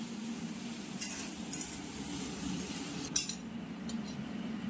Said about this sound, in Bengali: আগে এটা একটু ভালো করে ভাজা হোক